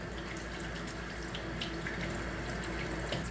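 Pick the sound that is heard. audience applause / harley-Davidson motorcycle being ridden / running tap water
running tap water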